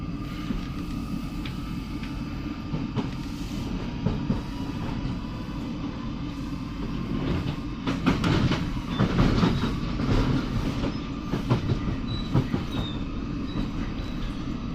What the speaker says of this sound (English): And we're on the move.